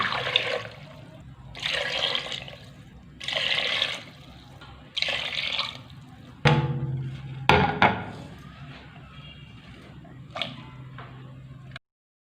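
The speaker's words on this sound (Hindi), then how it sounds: "अब 4 गिलास पानी डालेंगे।" Four glasses of water are poured into a cooking pot of mutton trotters in four separate bursts, each splashing loudly for about a second, followed by clanking and scraping of the pot.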